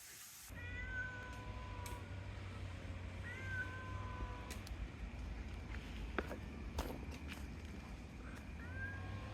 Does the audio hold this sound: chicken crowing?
no